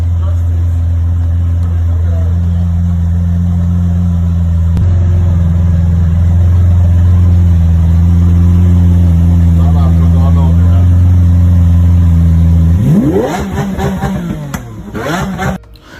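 A Lamborghini Aventador engine hums with a steady, loud, deep tone that builds slightly, then rises in a revving sweep near the end, with voices mixed in.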